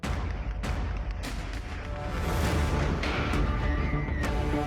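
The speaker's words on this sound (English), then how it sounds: "You could hear, in fact, the gunfire of what is likely to be security personnel shooting up what they think are drones." Gunfire from security personnel shooting at suspected drones near a Russian arms plant: a dense, continuous roar of rapid shots and bursts, loud and sustained throughout, with sharper cracks standing out early on.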